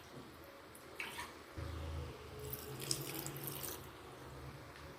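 Water rinsed from a mixer grinder jar poured into a pot of boiled dried jackfruit with salt, a steady close splashing pour that thickens after the first second and runs on for a few seconds, with no talk.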